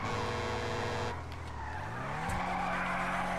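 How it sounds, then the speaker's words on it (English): In the video game GTA V, a car drifts with a loud, sustained tire skid over revving engine noise, and the engine pitch climbs steadily throughout. "If your car's drifting right, you turn your front wheel to the left."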